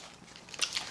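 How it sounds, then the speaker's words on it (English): A quick crunchy bite into a crispy fried chicken sandwich, a short crackling burst up close, alone and fairly faint. "how crunchy this chicken sandwich is"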